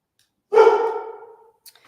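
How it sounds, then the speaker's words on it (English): Harley the dog lets out a single loud, close bark that trails off over about a second, alone against silence. "Harley's barking."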